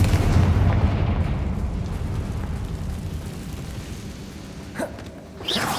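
A Confringo blasting curse goes off in Hogwarts Legacy, a heavy rumbling boom that fills the opening second and decays into a long low roar, followed near the end by a sharp crackling burst of fiery magic.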